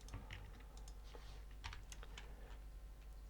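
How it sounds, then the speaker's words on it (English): Soft, quiet keystrokes on a computer keyboard, a short irregular run of light clicks with a low hum underneath. "You want to type this,"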